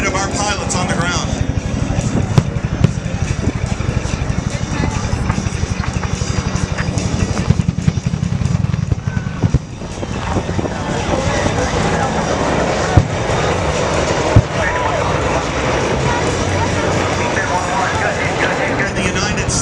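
A pair of A-37 jet attack aircraft roar past at an air show, a loud continuous engine roar that rises and shifts as they pass, with a voice talking over it.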